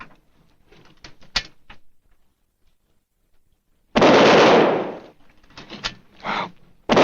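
A test-fired gun, heard as a sharp blast around four seconds that rolls into about a second of heavy, broad noise, with quieter thumps and clicks before it and short bursts after.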